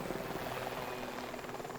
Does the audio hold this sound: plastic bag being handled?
no